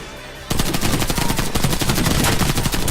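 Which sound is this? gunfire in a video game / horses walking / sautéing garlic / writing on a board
gunfire in a video game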